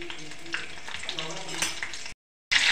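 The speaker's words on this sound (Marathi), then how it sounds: "कढीपत्ता घालत आहे।" Curry leaves hit hot oil in a kadai, crackling and sizzling steadily for about two seconds, then a brief silence and a loud burst of hissing.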